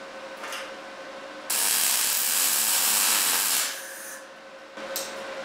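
A Lincoln 211i welder burns into steel during a Dana 30 truss and C-gusset build, a loud steady crackling hiss that holds for about two seconds between quieter stretches of sputter, then resumes briefly near the end.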